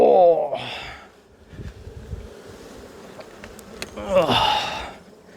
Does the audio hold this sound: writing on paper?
no